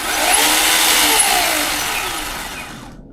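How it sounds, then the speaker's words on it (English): A Ryobi battery-powered chainsaw runs steadily with a high, even electric whine and chain buzz, close and fairly loud, then winds down and cuts off near the end. "That's the amount of noise you're going to get out of it."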